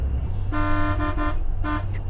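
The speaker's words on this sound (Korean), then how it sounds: "계속 빵빵." Car horns honk in busy traffic in Da Nang, Vietnam: a sustained blast, two short toots, then another toot, loud and close over a low road rumble.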